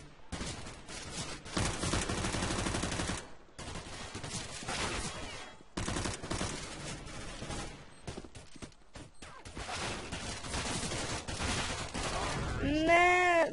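Rapid bursts of USP pistol and other gunfire in a CS:GO competitive match, dense and continuous with brief pauses, mixed with game effects.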